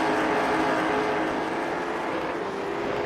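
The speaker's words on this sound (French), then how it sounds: "on entend le beau son de ces late model stock. Le moteur qui rugit très fort" Late model stock race cars in an amateur division race at Okayama roar loudly and continuously, a dense, sustained engine blare with no voices over it.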